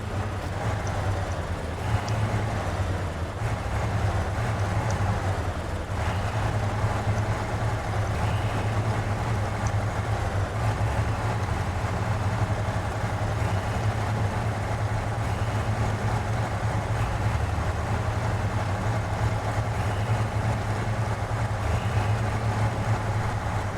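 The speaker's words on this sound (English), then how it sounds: "revving it a little bit just so I can back up carefully here." A truck engine in Snow Runner holds a steady low rumble as it is revved gently while reversing with a trailer. The drone stays continuous and fairly loud, with no talk over it.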